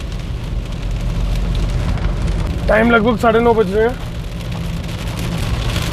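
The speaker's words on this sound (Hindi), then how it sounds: "और बारिश और भी तेज़ हो गई है।" Heavy rain pours steadily around a vehicle driving past Nagrota toward the Ban toll plaza on the way to Vaishno Devi, a dense broadband wash with low rumble throughout, while someone talks briefly in the middle.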